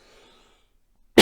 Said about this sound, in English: My throat always gets dry doing these things. I start coughing